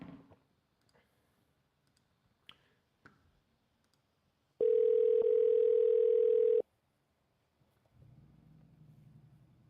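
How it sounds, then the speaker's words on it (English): A telephone tone sounds loud and steady for about two seconds as a call is forwarded to voicemail, preceded by faint clicks and followed by low rumbling noise. "Your call has been forwarded to voicemail."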